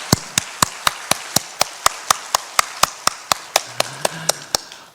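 A church congregation claps together in a steady, evenly timed beat during an Easter service, sharp and crisp, with faint low tones sounding near the end.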